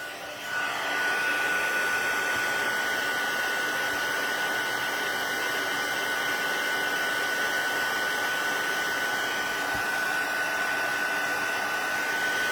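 A handheld heat tool blows a steady, loud whoosh of hot air over a card for embossing, starting abruptly and running unbroken with a faint high whine and no talking.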